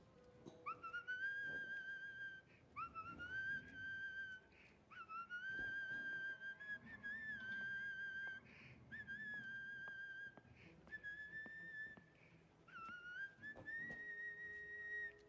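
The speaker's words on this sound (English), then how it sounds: "I don't know what that guy's whistling" A video game character whistles a repeating melody in clear, sustained phrases separated by short pauses, fairly faint and steady, with no talk over it.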